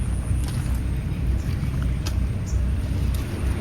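Constant low rumble of a houseboat motor on the Alleppey backwaters with rushing wind buffeting the microphone, steady and close throughout.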